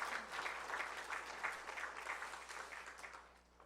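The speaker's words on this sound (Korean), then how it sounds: "우리 찬양대 수고 많이 했는데 한번 격려의 박수 해주시면 좋겠습니다" A church congregation claps for its choir after a Sunday service performance, a steady patter of applause that carries moderately then thins and fades toward the end, with no voices over it.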